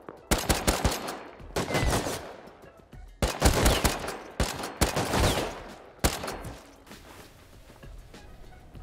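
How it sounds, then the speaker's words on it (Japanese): Bursts of rapid gunfire in the video game Rust crack out in three loud volleys, the shots close and sharp, with a brief lull and faint scattered shots between them. "なんか上の方で銃声したな。"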